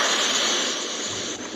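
Sea waves wash over a sandy beach in a steady broad hiss of surf, fairly loud and continuous with slight swells, no voices.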